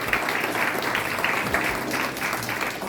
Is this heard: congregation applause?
yes